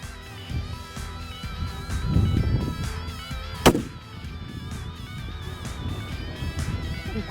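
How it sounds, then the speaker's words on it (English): A single sharp rifle shot at a red stag 710 yards away, fired with a 210 grain Berger VLD bullet, cracks out loud and brief near the middle of an outdoor scene with a low wind-like background hum. "Not to be outdone by Bob, Chris makes a 710-yard shot on her red stag with a 210 grain Berger VLD."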